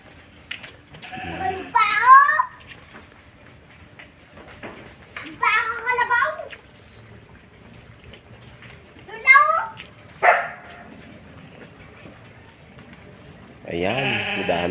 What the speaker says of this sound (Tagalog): May kambing. May tupa.